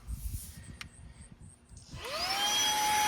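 AUXIOTO portable vacuum running on eco mode in a car trunk, picking up debris: soft handling clatter first, then the motor whirs up to a steady, loud whine and holds.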